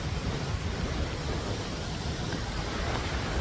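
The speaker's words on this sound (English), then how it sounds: "Look at that waterfalls there." Seljalandsfoss waterfall in Iceland gives a steady, loud broadband roar of falling water that holds unbroken throughout, with no talk over it.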